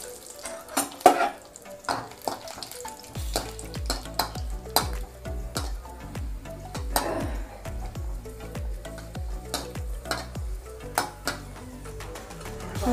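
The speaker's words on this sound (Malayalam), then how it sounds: "ആദ്യം നമുക്ക് അണ്ടിപ്പരിപ്പ് വറുത്തെടുക്കാം." Cashew nuts fry in ghee in a pan for onam payasam, giving a low crackling sizzle under frequent sharp metallic clinks and scrapes of a spoon stirring, close and fairly loud throughout with no talking.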